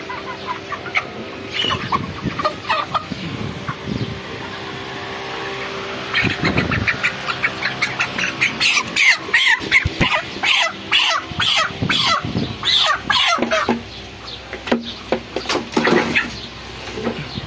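Flock of 36-day-old broiler chickens on a poultry farm, continuous overlapping clucks and squawks throughout, busier and louder in the middle, with scuffling movement and a possible dog bark.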